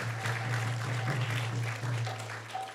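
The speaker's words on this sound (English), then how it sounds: "So let's give him a round of applause." Audience clapping for a singer after a Narsimha Aarti at a devotional gathering, steady dense applause for a few seconds under a low constant hum, moderately loud and from a room full of people.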